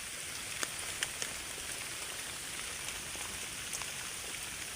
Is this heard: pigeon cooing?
no